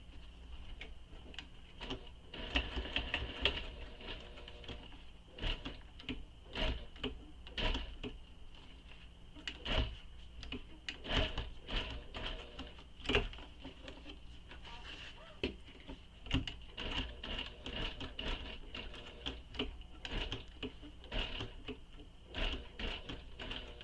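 A sewing machine stitches a bag seam, its needle chattering in quick rhythmic bursts with short pauses between runs, close and fairly quiet.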